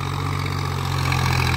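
A small Kartar tractor engine runs steadily up close, a low droning idle-like rumble holding even for the whole moment with no voices.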